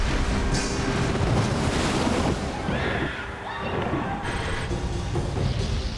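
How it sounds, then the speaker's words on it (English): Huge tsunami waves from the 2004 Indian Ocean earthquake rolling toward shore: a loud, dense roar of surging water and wind, sustained throughout with a brief dip midway. "Three giant waves approach shore."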